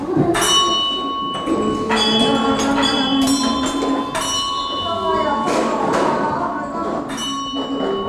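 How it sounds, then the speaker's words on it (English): Bell at the great prayer wheel of a Tibetan Buddhist monastery in Khampagar rings with repeated loud metallic strikes, each leaving a sustained tonal ring that overlaps the next. "With each ringing of the bell, the great prayer wheel sends countless blessings throughout the universe."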